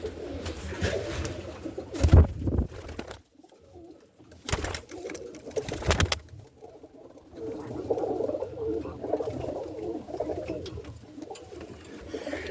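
Roller pigeons coo softly in a loft at night during feeding, a steady low murmur of several birds with occasional rustles and thumps, no talking.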